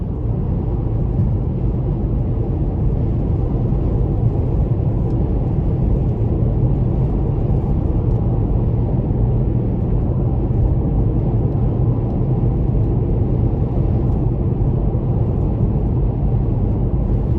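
A 2018 Porsche Panamera with a turbo V6 accelerating, heard as a steady, loud low engine rumble and whir from inside the cabin, continuous with no speech.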